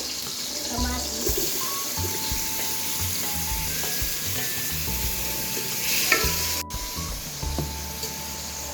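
Tomatoes sautéing in a pan for ginisang munggo, a steady sizzle with stirring and scraping, plus a brief burst of running tap water, all close and fairly loud.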